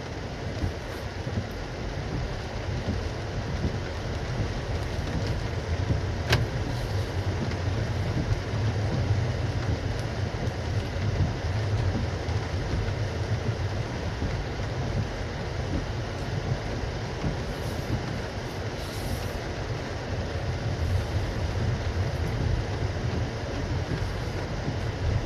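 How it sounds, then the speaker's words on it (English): A Citroen C5X driving in hybrid mode, with a steady low rumble of tyres on the road and faint wind noise running unbroken throughout. "The only noise I can hear from the car, because it's in hybrid, is just the noise of the tyres just rumbling along."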